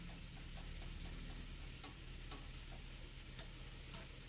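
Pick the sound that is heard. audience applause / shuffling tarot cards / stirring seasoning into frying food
stirring seasoning into frying food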